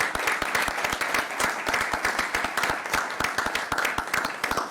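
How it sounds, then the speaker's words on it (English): An audience at a city candidates forum in Yorba Linda claps warmly and continuously, a dense steady round of applause from a moderate-sized crowd with no voices over it. "Let's give them another round of applause."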